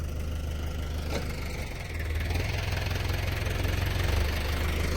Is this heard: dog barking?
no